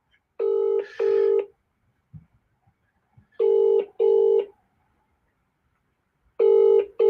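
Phone ringback tones sound in pairs of steady electronic beeps, repeating at regular intervals with silence between, clear and close, with a faint click in one gap.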